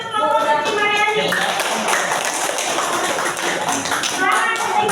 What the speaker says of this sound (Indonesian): Tepuk tangan untuk kelompok Siti Maryani